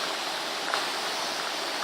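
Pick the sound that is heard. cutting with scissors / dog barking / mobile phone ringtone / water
water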